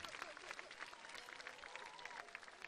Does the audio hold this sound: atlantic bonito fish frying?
no